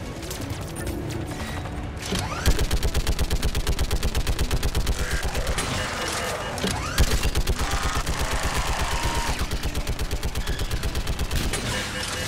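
Mass Effect 3 turret gunfire rattles out in a rapid, sustained automatic burst, loud and close, with brief pauses and renewed volleys and a voice talking underneath.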